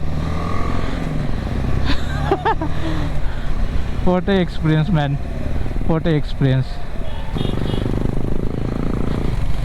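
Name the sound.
motorcycle riding through Bandipur Tiger Reserve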